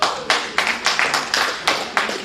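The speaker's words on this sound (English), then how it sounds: "Give yourselves a clap." A group claps together in short, even bursts, about seven rhythmic rounds of hand claps in quick succession at a ukulele music session, close and fairly loud with no talking.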